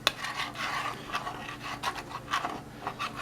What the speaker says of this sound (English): take our spoon and we're going to deglaze it. So scrape all the brown bits from the bottom